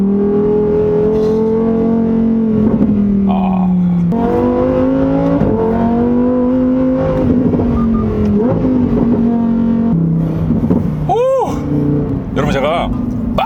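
A Lamborghini Huracán Tecnica with a 5.2-litre V10 in Corsa mode pulls hard as its loud, close engine note climbs and drops through gear changes, while a person talks over it.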